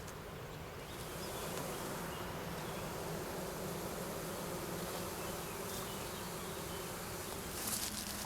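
A large swarm of honey bees, being removed from a site, produces a dense, steady, continuous buzzing drone that holds at a close, even level throughout, with no voices.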